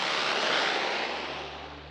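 A Super Scooper firefighting airplane from Bridger Aerospace roars past with a loud, broad engine rush that slowly fades as it moves away, no voices.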